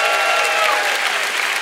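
Church congregation at Church of the Highlands in Noonan, Georgia, clapping their hands together, a loud, dense, continuous burst of applause from many people close by.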